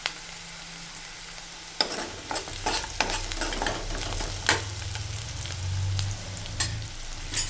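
Whole spices frying in oil for restaurant-style butter chicken: cloves, cardamom, a piece of cinnamon and a bay leaf crackle steadily up close, with intermittent spoon scrapes and taps against the pan and no voices.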